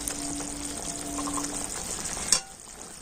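Laddu mixture in sugar syrup is stirred in a frying pan, giving a soft, continuous wet sizzling and scraping, close up, with a sharper clack of the utensil near the end.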